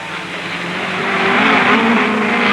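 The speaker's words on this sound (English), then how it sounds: "Parks in the Ferrari takes the lead from Ireland in the Lotus." Early-1960s Ferrari and Lotus race cars roar past during a race, a loud, continuous engine drone that builds slightly in volume as they pass close by.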